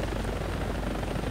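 Helicopters landing in the video game War Thunder during a night raid over Afghanistan, a dense, steady rotor and engine roar that fills the whole clip evenly with no speech.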